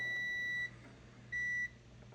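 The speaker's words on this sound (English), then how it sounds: "And when that beeps, that's how you know it's good." Two short multimeter continuity beeps while testing a Samsung dryer part, each a steady high tone about half a second long, separated by a brief pause over faint background hum.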